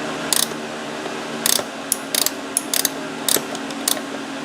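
Ratchet wrench tightening a loose castle nut on a Chinese ATV: quick bursts of sharp metallic clicking repeat in short strokes over a steady background hum, close and clear with no voices.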